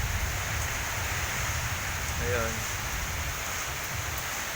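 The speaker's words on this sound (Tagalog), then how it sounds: "Malakas at lakas ang hangin." Strong wind and rain during a typhoon, a constant loud hiss of wind-driven rain with low gusty rumble throughout, while a person speaks briefly over it.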